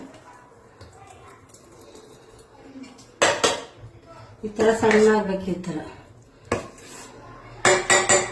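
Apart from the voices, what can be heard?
transferring ground batter into a vessel, dishes clinking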